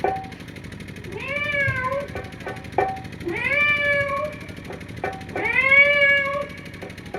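Three drawn-out cat meows, evenly spaced and fairly loud, each rising then falling in pitch, with quiet gaps and no talking.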